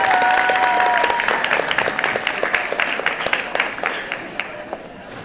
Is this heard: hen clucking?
no